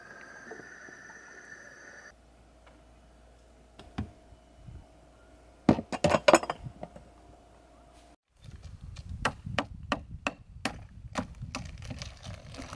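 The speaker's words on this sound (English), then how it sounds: "breaking up a food bag full of ice with a bit of wood" A piece of wood breaks up a food bag full of ice: sharp knocks and cracking thuds, a few scattered then a rapid cluster, followed by repeated crunching strikes, close and fairly loud.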